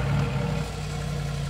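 Mercedes BRABUS 700HP G-Wagon with a valved exhaust idling in comfort mode, a low, steady rumble close by, alone and without voices.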